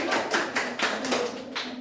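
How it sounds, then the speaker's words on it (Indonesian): Audience clapping at a group quiz session, a few slow, spaced claps from a small crowd, fairly faint and without talk. "Kita kasih tepuk tangan"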